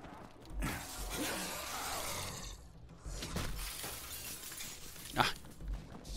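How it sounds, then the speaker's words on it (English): Glass window shatters in Call of Duty Black Ops Cold War, loud crashing breaks with scattered tinkling debris amid game noise, a sharp burst standing out near the end. "Ah, you broke the glass."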